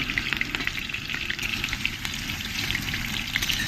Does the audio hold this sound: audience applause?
no